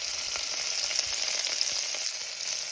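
Half an onion and a green chili sauté with bay leaves in a hot pan for mutton biryani, giving a soft, steady, even sizzle with light crackle throughout and no talk.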